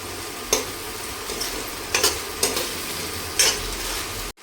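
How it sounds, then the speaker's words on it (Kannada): Ingredients for rice noodles fry in a pan with a steady, close sizzle, broken by a few sharp spatula taps and scrapes, before the sound cuts off abruptly. "ಒಂದು ನಿಮಿಷ ಈ ಥರ ಫ್ರೈ ಮಾಡ್ಕೋಬೇಕು."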